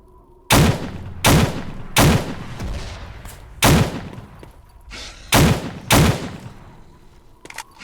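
Six loud, sharp gunshots in the video game S.T.A.L.K.E.R., fired one at a time at irregular intervals, each ringing out briefly, with no talking.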